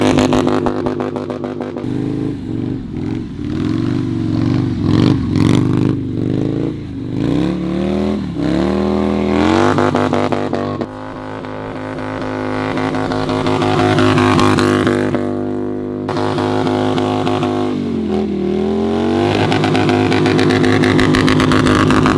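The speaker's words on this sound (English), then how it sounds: "Hines SuperSport exhaust on the 2025 Lowrider S" A 2025 Harley-Davidson Low Rider S fitted with a Vance & Hines SuperSport 2-into-1 exhaust revs repeatedly, deep V-twin blips rising and falling near the microphone, then settles into a loud sustained rev before dropping back to a throbbing idle.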